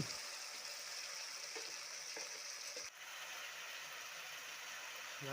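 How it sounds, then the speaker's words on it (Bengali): Ground spices with turmeric sizzle steadily in hot oil in a pan for a fresh green pea ghugni, a dense continuous frying hiss with a few soft stirring scrapes, close and alone. "দেবার পর তিন থেকে চার মিনিট মশলাটা কষে নেব"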